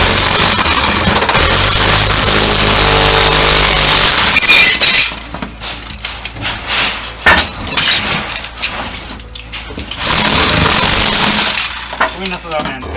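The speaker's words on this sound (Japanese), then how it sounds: "やってみていいか、ハンマードリル。" Hammer drill chipping old tiles off a bathroom wall: a loud, continuous rattling hammering for several seconds, then broken bursts of chiselling and crumbling debris close by, with another sustained hammering run near the end.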